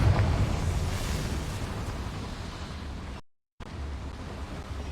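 A Confringo fire spell explodes in Hogwarts Legacy inside a small mine, a loud broadband roaring blast that rumbles on for about three seconds before a brief cut, then continues as a lower rushing tail.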